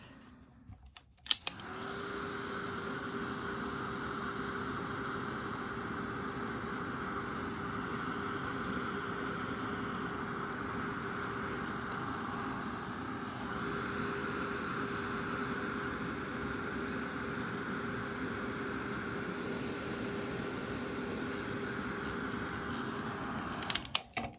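Heat tool blowing steadily to dry a crafted tulip card, a loud constant whoosh and whine that starts with a click and runs without break, ending in a few clicks.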